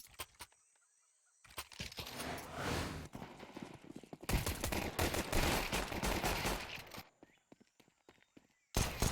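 P250 pistol shots in Counter-Strike 2 come as sharp, crisp reports in two dense bursts separated by quieter gaps. Dry clicks and clatter are mixed in, and a final loud shot closes the stretch.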